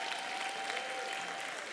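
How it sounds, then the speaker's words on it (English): Church congregation applauding a visiting Maryland bishop: a short, steady burst of many hands clapping, heard fairly faint and distant. "Give him a great big round of applause."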